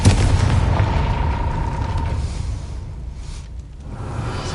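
A Confringo fire spell cast in the Hogwarts Legacy video game bursts in a loud, booming blast near the start, followed by a rumbling roar that slowly fades over several seconds, with no talking.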